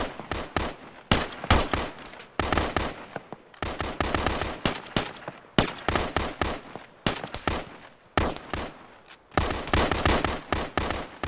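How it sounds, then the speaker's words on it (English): Heavy automatic cannon fire from a BTR armored vehicle in an Arma 3 battle, loud repeated bursts of rapid shots separated by short pauses, continuing throughout. "That's a BTR of some sort firing at us."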